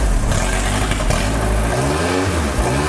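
A Ford Formula 2000 race car engine runs loud and close, a dense raw roar that rises and falls as the throttle is blipped, its pitch sweeping through revs.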